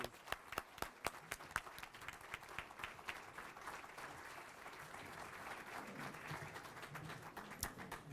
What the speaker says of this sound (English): give them a real well-deserved round of applause